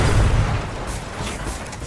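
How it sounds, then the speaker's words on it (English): Gunfire and explosive blasts hit the player in the video game Destiny, a dense, booming burst that is loudest at the start and then settles into a rumbling battle din. There is no talk over it. "Now I'm getting shot at."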